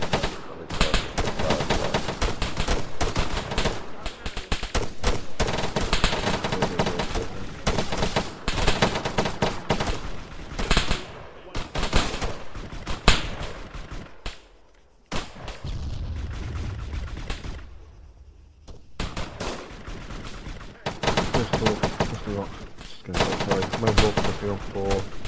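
Heavy gunfire in an ARMA 3 large squad operation: sustained automatic bursts and scattered shots with occasional booms, loud and near, briefly dropping away mid-stretch before resuming, with voices talking over parts of it.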